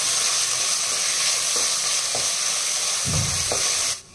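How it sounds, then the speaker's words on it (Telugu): Ginger garlic paste fries in hot oil with a steady, loud sizzle, a few soft stirring scrapes near the end before the sizzle cuts off abruptly. "అల్లం వెల్లుల్లి పేస్ట్ పచ్చివాసన పోయేంత వరకు వేగించాలి"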